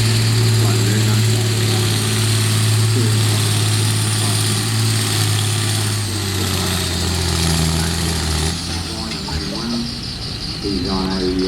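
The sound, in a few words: 1953 John Deere Super BMD Farmer tractor engine running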